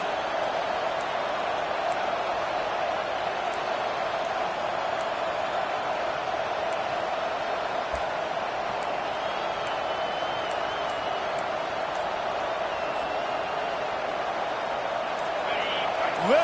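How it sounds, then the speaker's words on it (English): A large football stadium crowd roars in a steady, continuous wall of cheering and noise that holds level for the whole stretch, with no speech. "Listen to this crowd just shaking the girders of this place trying to help their defense."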